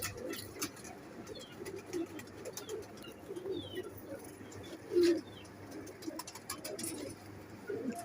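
A Salari teddy pigeon coos in low, repeated bursts, steady and close, with faint chirps and a louder coo near the end.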